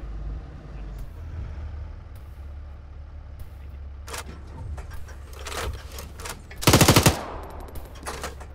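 A short, loud burst of rapid automatic gunfire cracks out near the end of a long firefight in a town, with a low engine rumble running underneath and scattered distant shots before it.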